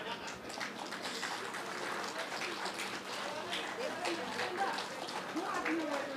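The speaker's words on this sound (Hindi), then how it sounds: "जोरदार तालियां दोनों के लिए।" Applause from an audience at a reception and interaction program honoring a retired PWD chief engineer, steady dense clapping throughout, with some talk faintly underneath.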